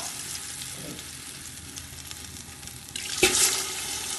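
Two glasses of water poured into a simmering couscous sauce pot, a steady low sizzle and bubble followed by a brief louder splash and hiss near the end.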